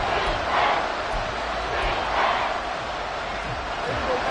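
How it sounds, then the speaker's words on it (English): A stadium crowd roars on its feet during a late fourth-quarter Dallas Cowboys football game, a steady broad wash of cheering swelling slightly, with a play-by-play announcer talking over it. "Crowd on their feet."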